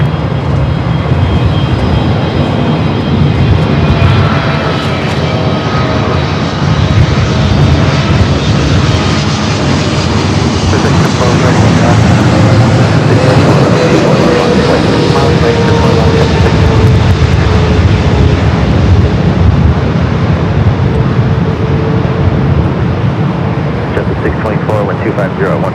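A Boeing 777 airliner landing at Los Angeles International Airport, heard as a loud, steady jet roar that swells and slowly shifts in pitch for the full length, with faint radio chatter in the background.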